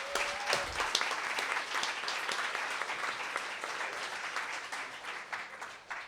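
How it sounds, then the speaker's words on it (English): A seated audience at a conversation event applauds in a full, sustained round that stays steady throughout, with a brief tone and a low thump at the very start. "Can we clap it up for Brandy?"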